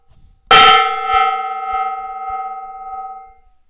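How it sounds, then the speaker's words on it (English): A decorative gong in a workshop is struck once with a sharp metallic attack, then rings out with a loud sustained shimmering tone that slowly fades over about three seconds. "So we're gonna hit this gong."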